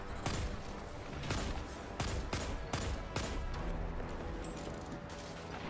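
Close, loud bursts of 180 RPM hand cannon fire in Destiny 2 crack out in a steady series of separate shots over dense game ambience and effects.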